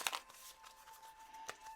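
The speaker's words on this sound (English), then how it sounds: "So let's just shuffle" A deck of crystal and affirmation cards being shuffled by hand, giving soft, close, brief riffling and flicking bursts at a low level.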